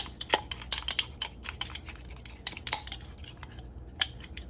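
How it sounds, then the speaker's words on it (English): A spoon mixes pickle ingredients for quick Asian-style mustard and collard green pickles, giving a string of close, quick clinks and scrapes against the container in an irregular rhythm with no talking. "I'm going to mix this up."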